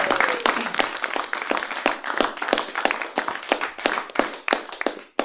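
An audience applauds for the drink servers at a live comedy show, with a dense, steady round of clapping that begins at full strength and keeps going across the whole stretch.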